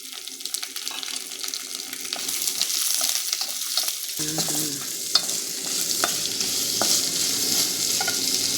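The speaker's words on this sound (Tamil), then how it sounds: "கொஞ்சம் கடலைப்பருப்பு நல்லா செவந்ததும் வெங்காயம் போடலாங்க." Onion and curry leaves, added after mustard seeds and chana dal, fry in a pan for raw-banana puttu, a steady close sizzle that jumps louder as they go in, with stirring scrapes and occasional crackles.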